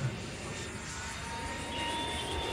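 A full-carbon 1:4.5 scale ASW 17 RC glider whooshes past at speed with a steady airy engine or wind hiss, rising slightly toward the end.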